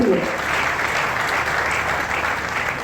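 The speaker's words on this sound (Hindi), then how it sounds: "तालियां तो आपकी बनती है।" An audience at a public event in Kathua applauds steadily for the whole stretch, a dense, even wash of many hands clapping, with a brief voice at the very start.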